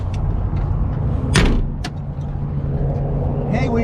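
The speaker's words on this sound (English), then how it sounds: "when you shut the door, all this shit came down" A door on a 1968 Chevy C10 pickup truck slams once, a sharp loud thud near the start against a steady low rumble of an idling engine, with voices talking around it.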